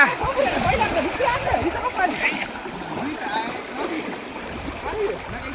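Bulls are washed in a village river for the Bail Pola festival, with continuous close, choppy water splashing and sloshing and voices calling out over it.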